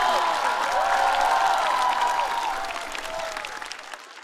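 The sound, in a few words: audience cheering and applause at stand-up comedy show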